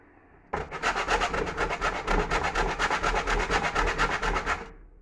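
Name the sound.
grating Stilton cheese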